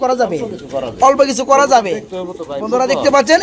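A pair of Lahori pigeons coo in a loft, their low throaty calls close by and mixed with people talking nearby.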